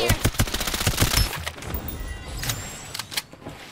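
Rapid bursts of gunfire ring out in the battle royale game Farlight 84, a quick string of sharp shots up front that thins into scattered single cracks and a few distant pops.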